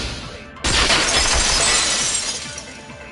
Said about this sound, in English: So the sound of breaking glass that the 4 girls...